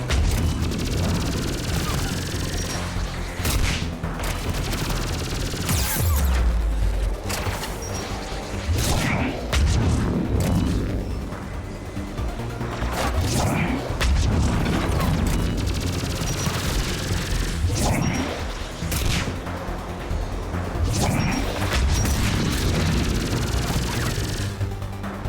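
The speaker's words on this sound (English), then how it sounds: "I can shoot the rockets in midair if I'm competent enough" Rockets fired and exploding in a first-person shooter game, heard as repeated loud booms and crashes with sharp impacts scattered across a steady dense mix of game noise, plus a voice speaking at times.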